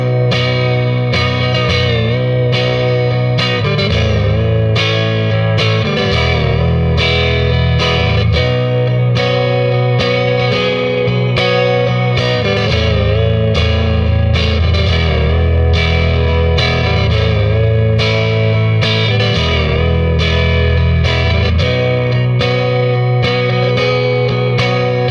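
An electric guitar, a Jazzmaster copy on the neck pickup, plays a rhythmic strummed pattern with a warm, round tone, washed in reverb and light drive, steady and loud throughout.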